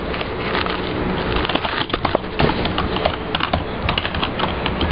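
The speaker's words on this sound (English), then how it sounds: "How does it sound when I type?" Someone types on a TT eSports Ryujin gaming keyboard, a non-mechanical board, producing a fast, steady stream of close, soft key clicks with irregular louder taps and no talking.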